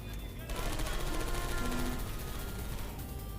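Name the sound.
gunfire from turrets in video game Portal 2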